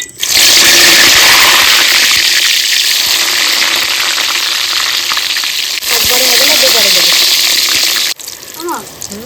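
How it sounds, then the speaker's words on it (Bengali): Eggplant slices coated in salt and turmeric frying in hot oil, giving a loud, steady broadband sizzle that continues for the whole stretch, with a voice speaking faintly beneath it. "ভেজে নেবো"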